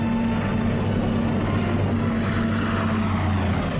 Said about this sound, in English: Cargo planes shuttled back and forth over the hump to China.